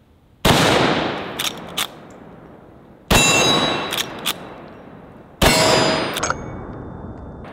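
Three loud, sharp shots from a Mare's Leg lever-action firing .44 Magnum rounds outdoors, each followed by a ringing decay and quick metallic clicks of the lever cycling, with no talking.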